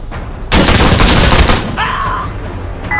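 A burst of rapid, loud automatic gunfire from a FAL rifle erupts in Insurgency Sandstorm, sustained for about a second before fading into a lingering echo with a faint tonal effect afterward.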